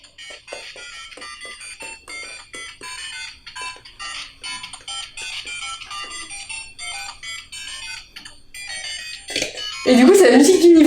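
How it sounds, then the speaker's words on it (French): A LEGO Super Mario toy plays its level music, bright chirpy electronic beeps in a quick melodic run, with a person talking over it and a louder burst of tones at the end. "c'est la musique du niveau"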